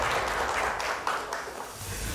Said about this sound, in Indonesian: Tepuk tangannya boleh lebih meriah lagi?